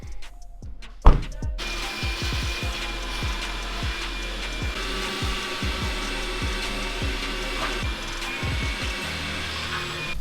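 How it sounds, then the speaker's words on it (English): A shop vacuum whines steadily inside a 2019 Subaru STI interior as it sucks up broken glass, with repeated rattling clicks and knocks of glass shards through the hose after an initial bang. "just vacuum it out, get all this glass out of here."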